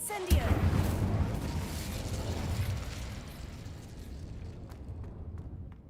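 Incendio fire spell cast in Hogwarts Legacy, a loud burst at the start followed by a sustained roaring, crackling fire rush that slowly fades, with game ambience behind it.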